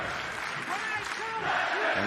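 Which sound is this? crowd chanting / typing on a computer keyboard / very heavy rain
crowd chanting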